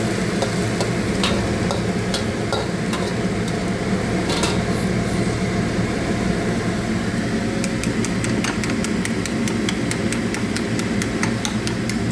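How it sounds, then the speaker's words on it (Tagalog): Bitter gourd with eggs and tomatoes stir-fried in a pan, loud steady sizzling beneath a constant fan-like hum, with quick repeated clicks of a utensil scraping and tapping the pan, denser toward the end. "Kailangan mo siyang i-stir ng maayos."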